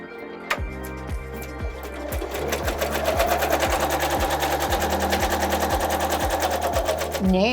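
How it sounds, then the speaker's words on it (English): An embroidery machine stitches a placement line on quilt fabric with a fast, steady mechanical chatter that rises in speed after a slow start, running loud and close without talk. "Now it's going to stitch our placement line for our third color fabric."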